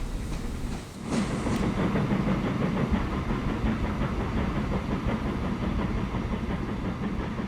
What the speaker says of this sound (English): He's going awfully slow for a train that says he can pull a lot more than he does.